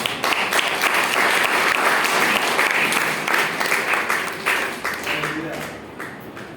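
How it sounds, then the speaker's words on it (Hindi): A church congregation breaks into loud sustained applause during a sermon, dense clapping that gradually thins and fades toward the end with faint voices. "इसके नाम भाई तालियां होनी चाहिए"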